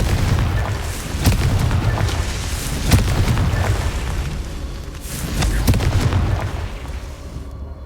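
Confringo spell blasts in the video game Hogwarts Legacy form a loud, dense run of booming explosions and crackling bursts that roll on for the whole stretch, with sharper impacts rising out of the rumble.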